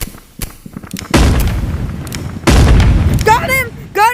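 Gunshots in the VR game Animal Company: a few sharp taps, then two long, loud blasts of gunfire with heavy low-end rumble, close and dominant, with excited speech breaking in near the end.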